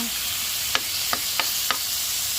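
Ground meat frying in a pan for adobong kangkong: a steady bright sizzle throughout, broken by four short scraping stirs of the spatula at roughly even intervals.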